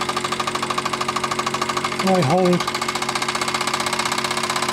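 A Mann steam roller engine runs on compressed air and runs poorly, giving a steady rapid chuffing beat with slight unevenness, close and loud, while someone speaks briefly over it.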